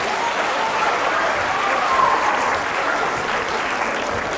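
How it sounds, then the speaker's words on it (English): An audience at a live stream event applauds a volunteer who has been called up on stage, a loud, sustained patter of many hands clapping at once with a few cheers, steady from start to finish. "Give her a round of applause."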